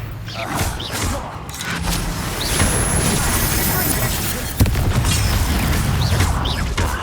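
Blasting-spell explosion in Hogwarts Legacy, a dense, loud burst with a sharp crack near the middle, rumbling over dense combat noise and busy low-end clatter.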